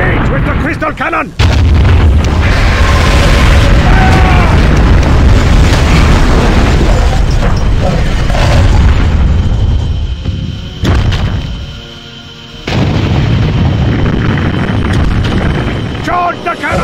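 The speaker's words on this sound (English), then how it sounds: "Engage with the crystal cannon!" A crystal cannon fires in Godzilla Unleashed, giving heavy, booming blasts that rumble continuously and loudly. They break off briefly, then resume with sharp bursts, with a voice speaking over the din.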